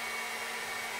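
A Powersmart 40V cordless leaf blower running on its low setting gives an even, unbroken rushing whoosh of air that holds at a steady level throughout.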